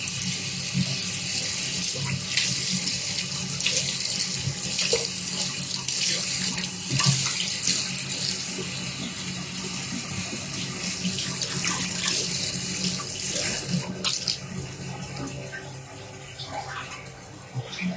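Water running from a tap into a sink while a face is washed with soap on a cold winter day, a steady close splashing rush with brief shifts from hands in the stream and a slight fade near the end.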